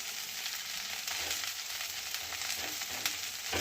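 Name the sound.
broccoli being stirred and sautéed in a pan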